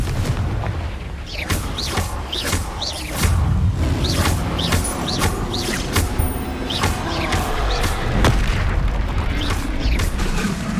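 Confringo and Bombarda spell explosions in the video game Hogwarts Legacy, loud repeated booms and blasts in a steady barrage, one after another for about eleven seconds.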